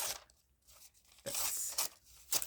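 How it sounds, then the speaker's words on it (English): Paper is torn off in bits, giving several short, crisp ripping bursts with quiet pauses between them, close and fairly faint. "Tearing off"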